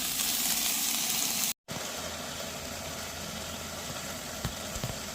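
Onion, celery and pepper sizzle in a camp pan on an outdoor stove, a steady wide hiss that runs nearly the whole time, broken only by a brief drop near the start.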